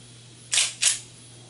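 Two sharp, loud reports about a third of a second apart from a Ruger P89 9mm pistol test-fired with ping pong ball powder and a magnum primer, close and outdoors against quiet background hum.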